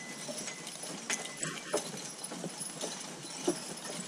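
Draft horses walking slowly downhill on a slippery slope in the rain, with a few soft, irregular hoof thuds heard against a constant hiss of rainfall, faint and somewhat distant.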